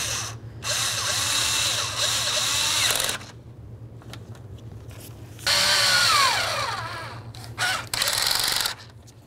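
Power tool driving the radiator mounting bolts on a 2004-2015 Nissan Titan during an A/C condenser replacement, with several close whirring bursts of a few seconds each, separated by quiet pauses.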